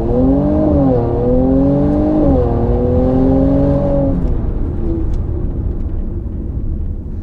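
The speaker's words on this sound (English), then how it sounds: "here's the exact same thing in comfort mode, flooring it to 0 to 60 with the exhaust turned off." A 2019 Mercedes C43 AMG in comfort mode with its exhaust valves closed, launched at full throttle from a standstill: a steady, subdued engine drone rising in pitch through gear changes, heard from inside the car, with no talk.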